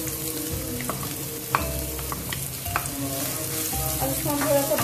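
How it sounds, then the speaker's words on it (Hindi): Onion and green chilies fry in hot ghee in a nonstick kadai, a loud, constant sizzle with occasional spatula scrapes and taps close by. "तो इधर हमारा घी गर्म हो गया है, अब इसमें डालूंगी मैं ये अनियन"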